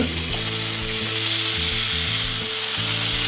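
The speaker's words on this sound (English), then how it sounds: "on a fry pan over a medium to high heat, we're going to place in some olive oil. Next, I'm going to place in some blade steak" Cubes of beef blade steak sizzle loudly in olive oil in a frying pan over medium-high heat, a steady close crackle throughout with no voices.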